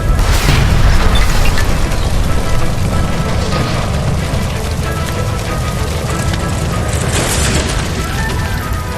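A gas line blows up in the L.A. Noire video game: a loud, sustained boom with rumbling roar and debris that slowly tails off over several seconds.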